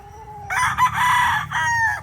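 A fighting rooster crows once, loud and close, a drawn-out strained call over low background noise.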